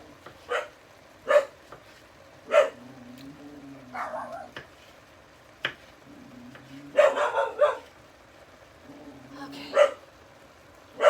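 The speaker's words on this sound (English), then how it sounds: "Oh, Roxy's gonna bark now too." A dog barks in short, separate bursts spread across the stretch indoors near a kitchen, some single barks and some clustered doubles, with quiet gaps between them.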